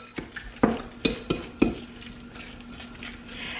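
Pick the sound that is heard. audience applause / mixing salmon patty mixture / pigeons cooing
mixing salmon patty mixture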